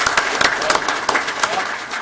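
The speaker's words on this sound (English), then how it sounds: "If you just stand up for a second, I would give you applause" A crowd at a county State of the County address gives brief applause for a veterans coordinator, scattered claps with a voice partly over them.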